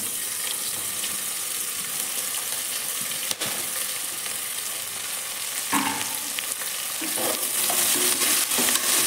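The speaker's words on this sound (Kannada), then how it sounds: "ಇವಾಗ ಬ್ರೌನ್ ಕಲರ್ ಬರೋವರೆಗೂ ಇದನ್ನು ಫ್ರೈ ಮಾಡಬೇಕಾಗುತ್ತೆ." Sliced onions fry in hot oil for chicken biryani, sending up a continuous close sizzle broken by scraping stirs and a sharp clink from the pan, with no voices.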